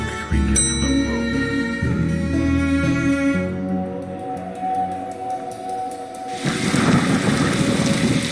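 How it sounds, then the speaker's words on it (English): Rain in The Darkside Detective video game: a soft hiss of falling rain swells up near the end, after a stretch of tonal game music. "But it's raining outside."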